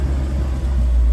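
A car engine turning steadily at 1,000 RPM in first gear, a low continuous rumble with a faint idle-like throb, close and unbroken, with rear tires at 8 psi.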